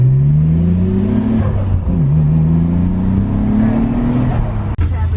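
The engine of a Yashio Factory Nissan S15 drones loud and close while it drives a narrow one-lane road near Nikko behind another R33, its pitch rising as it accelerates, easing off and climbing again, with a brief thump near the end.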